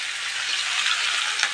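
Sliced onions hit hot oil with fried potatoes in a pan for soybean khichuri, making a bright, steady hissing sizzle close by, with faint stirring scrapes and no talking.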